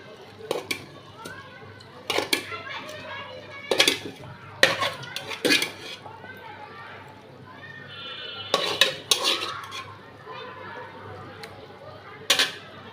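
Fish pieces going into a pan of potato curry, with sharp metal utensil clatters and scraping stirs arriving in separate bursts. Quieter kitchen noise fills the gaps between them.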